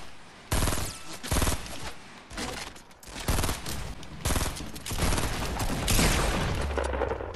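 Gunfire in a shooting video game, loud rapid bursts of automatic shots and overlapping volleys repeating for several seconds, dense and close with no speech.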